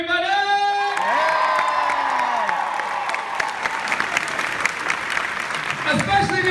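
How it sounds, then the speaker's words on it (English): A loud crowd claps and cheers for the volunteers at a Valentine's Day show, with whoops and shouts over sustained applause; a voice rings out at the start and the noise carries on throughout. "a big round of applause for all the volunteers, everybody!"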